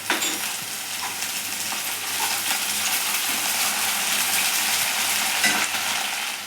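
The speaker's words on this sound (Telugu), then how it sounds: "మనం శుభ్రం చేసుకున్న పుదీనా వేసుకుందామండి." Mint and coriander frying with onions for a goat head curry; a dense, loud, continuous sizzle dominates at close range, broken by occasional stirring scrapes and light clinks, with no speech.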